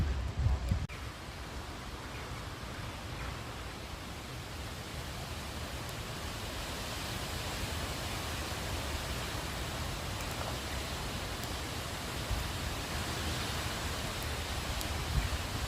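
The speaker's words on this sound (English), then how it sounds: "Getting a lot of rain on my phone" Steady rain hisses evenly on a phone for a long stretch, a dense, broad wash of noise with occasional louder patters close by and no voices.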